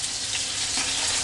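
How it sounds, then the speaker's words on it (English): Hamburger steaks searing in an iron skillet, a close, dense, steady sizzle of frying throughout the short stretch with no talking. "these in my iron skillet are doing amazing. You only want to brown them."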